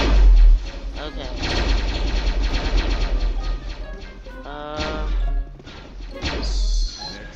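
Blaster gunfire in a Star Wars video game, rapid bursts of shots with thuds and crashes, loud and close, mixed with someone talking.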